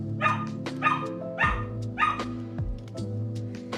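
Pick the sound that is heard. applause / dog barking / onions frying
dog barking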